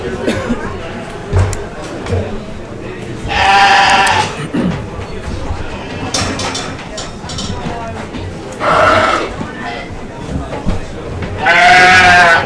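Sheep bleat loudly in three bursts at a livestock sire showcase, close by, with crowd chatter and people talking throughout between the calls.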